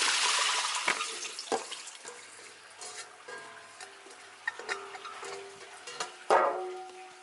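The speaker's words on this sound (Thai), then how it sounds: "แล้วก็กรองน้ำออก" Pickled bamboo shoots being strained: water pours and splashes in uneven bursts, with drips and trickles between them, moderately close and fairly soft, with no speech.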